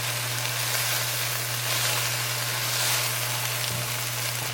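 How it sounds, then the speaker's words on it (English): Kidney hash sautés in butter over medium-high heat, giving a dense, constant close-up sizzle with a low steady hum underneath and a brief stir near the end. "I'm gonna saute this for about 5 minutes total, again over medium-high heat"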